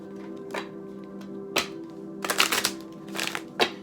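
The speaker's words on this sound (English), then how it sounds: "So I'm just gonna give these cards one more shuffle here" Tarot cards being shuffled by hand, a series of quick crisp riffling bursts with short pauses between them, close and fairly quiet over a steady background hum.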